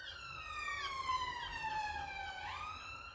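An emergency vehicle siren wails steadily through the full stretch, its pitch sliding down and rising again, moderately loud against a low road rumble with no one talking.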